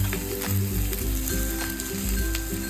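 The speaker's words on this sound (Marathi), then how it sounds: "आता सगळीकडून थालीपीठाला आपण तेल टाकून घेऊया." Oil hisses and crackles around a pumpkin thalipeeth, a Maharashtrian flatbread, frying in a pan. The sizzle is steady and loud at close range and goes on without a break, with no talk over it.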